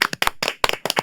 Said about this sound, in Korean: 우리 다 같이 한번 같이 박수 치고 가자고요